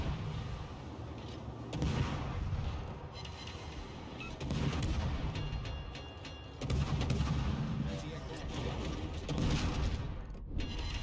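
Heavy battleship shells from the West Virginia rain in during a naval video game battle, a run of deep booming blasts and rumbling impacts in several loud bursts, with no talking.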